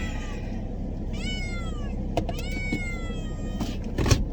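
Kittens meow repeatedly inside a car during a drive in Baltimore, several clear rising-and-falling cries spaced across the stretch over a steady low road rumble, fairly close and moderately loud.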